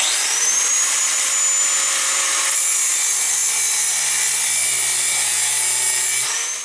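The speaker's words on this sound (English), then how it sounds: "we're just going to cut off above the gas tube" A saw cuts steadily through the metal front sight post of an AR-15 rifle, a loud, continuous grinding rasp that holds for several seconds before easing off at the end.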